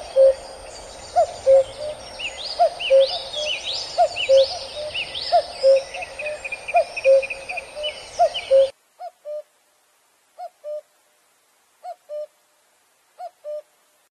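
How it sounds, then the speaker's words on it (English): A cuckoo calls its two-note song over and over in a rhythmic series, first amid a busy chorus of other birds, then clear and alone with gaps between calls. "Cuckoo."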